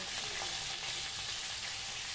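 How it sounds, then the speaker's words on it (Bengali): Bhola fish frying in hot oil, a steady close hiss of sizzling that holds evenly throughout with no one speaking. "মাছগুলো ভাজা হয়ে যাচ্ছে"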